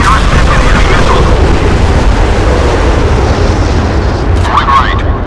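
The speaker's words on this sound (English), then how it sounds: "Firing missile at enemy warships." Warship missile launch and explosions in the naval combat game Modern Warships, a dense continuous roar of blasts and booms with brief bursts at the start and end.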